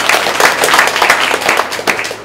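An audience at a hall unveiling ceremony applauding the dean, with loud, dense clapping from many hands that carries on steadily throughout.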